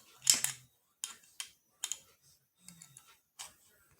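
The back of a knife blade works a small screw, giving a handful of sharp, dry metallic clicks and scrapes spaced apart against near silence.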